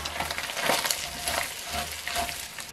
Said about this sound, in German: für 4 bis 5 Minuten die Zwiebeln glasig dünsten